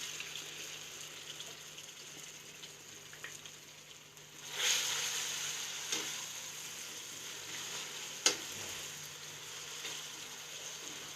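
Chicken pieces hit a hot pan for chow mein and fry with a steady sizzle, a loud burst of crackling near the middle followed by a few sharp clatters against the pan.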